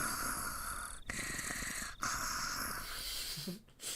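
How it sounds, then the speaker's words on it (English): Snoring sound effect from the Higurashi: Minagoroshi anime visual novel, a long, drawn-out rasping snore that runs steadily with a couple of brief pauses between breaths. "That is the longest snoring I have ever heard."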